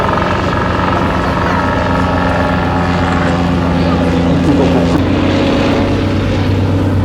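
A short-takeoff propeller aircraft flies over the runway at a European hot-air balloon championship, its loud, steady engine drone filling the whole stretch with a faint voice in the background.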